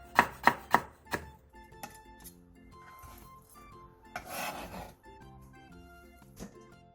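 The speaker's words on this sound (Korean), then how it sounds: "노각 장아찌 2개를 얇게 어슷썰기로 채 썰어주세요" A knife slices pickled old cucumber (nogak jangajji) thinly on the diagonal: four quick, crisp cuts close together, then a few softer, scattered strokes beneath steady background music.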